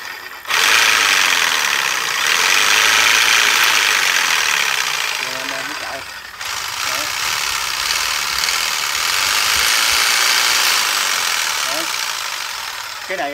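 A Japanese-market 100V electric cutting machine runs in a loud, continuous whine with a brief dip in the middle, while someone talks over it.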